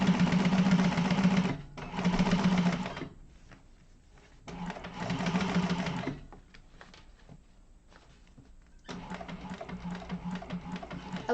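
Sewing machine stitching a bowler bag, running in several bursts of rapid mechanical whirring with pauses and small clicks between.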